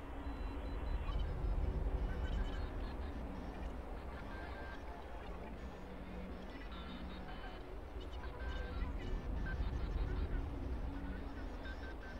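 Cyborg chickens in the post-apocalyptic game Wasteland 3 give steady clucking, squawking calls over a dense, continuous game soundscape, with a voice faintly under the mix.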